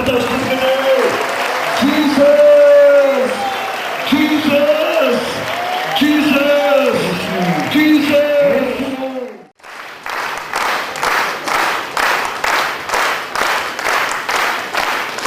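A voice rings out over a church congregation, then a large group claps in a steady, rhythmic beat that continues to the end.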